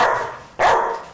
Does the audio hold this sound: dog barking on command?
yes